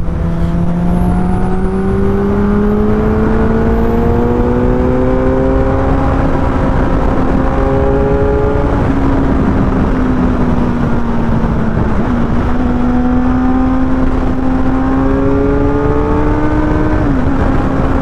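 A car engine drones steadily and loudly on a road leading to an inland container depot in Kenya during a big group motorcycle ride, its pitch rising and falling through gear changes without a break.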